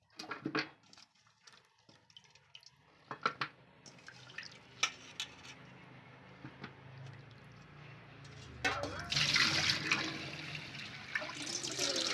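Goat head meat rinsed in water before making curry, with intermittent splashes and drips giving way to a steadier rush of running water toward the end, no speech.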